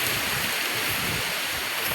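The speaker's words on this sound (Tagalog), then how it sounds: "Nagabing kusog kay ulan diri hangin." Strong wind roars steadily, with a dense hiss like heavy rain, loud and continuous with no voices.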